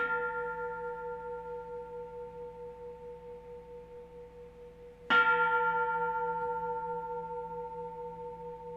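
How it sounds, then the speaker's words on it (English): A gong rung at a graduation commencement ceremony, a long resonant tone decaying with a slow pulsing shimmer, then struck again for a bright loud hit that rings on steadily in a quiet hall. "I will ring the gong at that point and we will commence."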